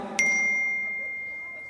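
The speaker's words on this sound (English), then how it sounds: "that messenger tone that we need to check what it is" A single bright phone message notification ding sounds near the start and rings out in a long, clean, slowly fading tone over a hushed room.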